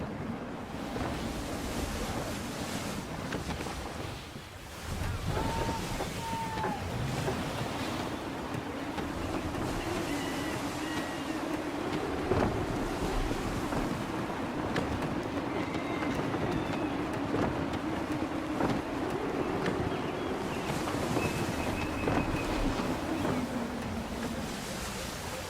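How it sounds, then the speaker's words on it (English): A sailing ship in Assassin's Creed 3 sees steady surf and rushing sea noise under gusty wind, with a continuous broad wash, some creaking tones and a few brief dips, loud and sustained. "Gusty winds can be difficult to manage."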